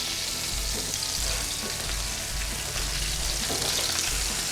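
A thick piece of meat sears in a hot pan while being browned on all sides, giving a loud, steady, dense sizzle throughout with no talking.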